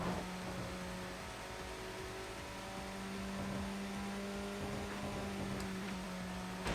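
A car engine drones and revs in the racing video game Tokyo Xtreme Racer 2025, a steady sustained whine at high speed with shifting pitch and no talk.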